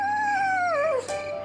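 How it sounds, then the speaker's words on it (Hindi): A dog whimpers from the cold while curled up under a cot with its muzzle tucked into its belly, giving one long, wavering, falling whine that drops off near the end, close and fairly loud. "खटिया के नीचे उनकर संगी कुत्ता जबरा पेट में मुंह डाले सर्दी से कू कू करत रहे।"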